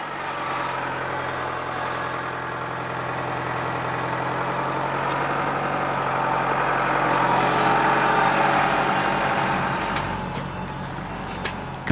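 A tractor engine works a field while ploughing, a steady low rumbling drone that holds for about twelve seconds, swelling slightly midway and then easing, with no voices over it.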